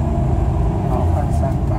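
A manual-transmission car driving at night, its engine giving a steady, loud low rumble that holds close and even throughout.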